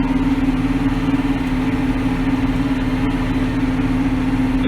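Farm tractor engine pulling a tillage implement uphill across a winter wheat field, a loud steady low drone with a constant hum, close and continuous with no talk.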